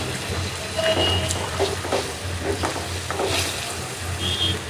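Katla fish pieces dropped into hot oil for a Bengali curry give a steady, close frying hiss with faint crackles and a low stove rumble underneath, no voices.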